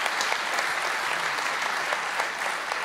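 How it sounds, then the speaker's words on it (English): A live crowd at the FIWC 2015 grand final claps steadily and densely throughout, a continuous wash of hand claps filling the hall with no pause. "Round of applause, please"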